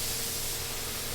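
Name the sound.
spray painting a Honda car with turbo cans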